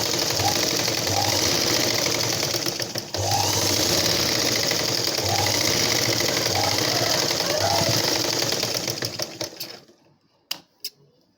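A sewing machine stitching a blouse runs in a fast, continuous mechanical chatter close up, pausing briefly once, then stopping near the end, followed by a few isolated clicks.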